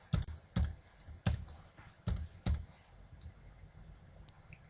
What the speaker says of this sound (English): Keep on typing a semicolon.